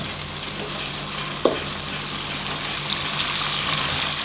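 Ginger garlic paste frying in oil for an arbi leaf curry, a steady close sizzle with a brief stir or clink near the start, no voices.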